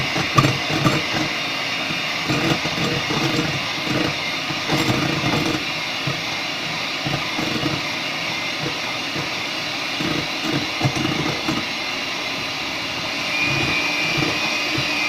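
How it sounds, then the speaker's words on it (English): An electric mixer runs on high with its beaters whipping chocolate pie filling in a bowl, giving a close, continuous mechanical whir with rattling, clattering texture throughout. "So you got that mixer on pretty high."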